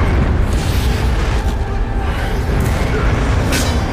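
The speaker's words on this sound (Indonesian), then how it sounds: "Akibat ledakan yang dahsyat" Massive blast from a film as a mountain demon is destroyed, a dense, loud, continuous roaring rumble filling the whole moment with heavy low-end and a couple of brighter crackling surges, no voices over it.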